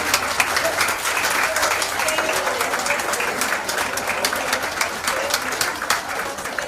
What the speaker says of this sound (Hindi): तालियों की बौछार से उनका स्वागत करेंगे।